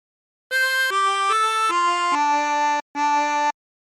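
A tremolo harmonica plays the opening phrase of What Shall We Do With the Drunken Sailor: six clear sustained notes in a steady rhythm, the last one separated by a short breath gap.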